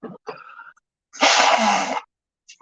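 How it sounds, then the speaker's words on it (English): Someone blows their nose with one loud, rough honking burst lasting under a second, close up, set between short breathy vocal sounds. "Blow out your schnoz."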